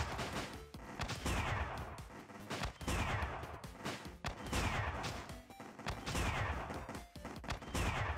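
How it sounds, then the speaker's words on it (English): Mortar tower in the tower-defense game Sanctum firing in dense, repeated bursts, with loud booming blasts and crackling explosions coming in waves over a constant rumbling battle din. "And the mortar is really powerful as well"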